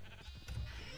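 A cow in Minecraft with the Doctor Who Dalek mod lets out a short, fairly faint lowing bleat that stands alone without speech.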